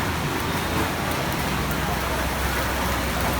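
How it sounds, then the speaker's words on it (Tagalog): Heavy rain pours down in a loud, constant hiss, close and unbroken, with a faint rumble of road noise underneath. "Ayan, ulan na ulan."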